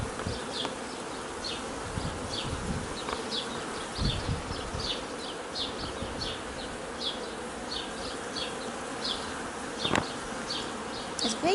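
Honeybees buzzing steadily inside a newly opened backyard beehive on the first inspection, a close, continuous hum with wingbeats flickering past the microphone and occasional soft handling knocks.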